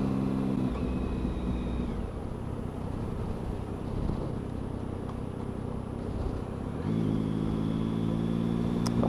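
A motorcycle with a raw engine runs while riding, a steady mid-level drone with two stretches of tonal engine whine rising and falling, wind and road noise between them.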